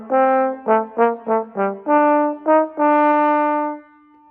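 Solo trombone plays a phrase from the 2019-2020 GMEA All-State Concert Band technical étude. A run of about eight separate, weighty notes ends on a long held tone, played close and clear with no other sound.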